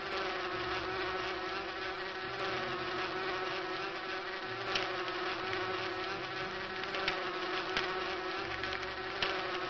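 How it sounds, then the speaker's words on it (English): Bees swarming around a honey tree in the adventure game Inherit the Earth: Quest for the Orb, a steady droning buzz with small fluttering variations, continuous and fairly quiet over a low tonal hum, with a few faint clicks. "Fly away, little bees."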